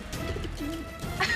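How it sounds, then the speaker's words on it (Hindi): A small pigeon coos close by in a TV drama scene, a soft, low, rolling call set against a quiet indoor background. "छोटा सा कबूतर ही तो है"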